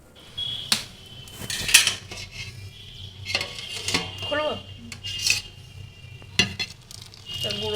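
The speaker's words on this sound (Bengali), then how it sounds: "তাই গুঁড়ো দুধ গুলছে।" A spoon scrapes and clinks around a metal pot as powdered milk is stirred into milk, giving irregular metallic taps and rubbing strokes under a faint hiss, close by.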